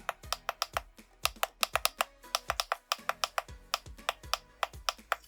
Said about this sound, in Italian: cercherò di farvi vedere nel dettaglio il rumore, il click che hanno un click molto breve, un feedback molto deciso